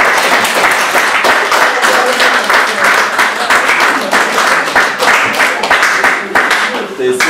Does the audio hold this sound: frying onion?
no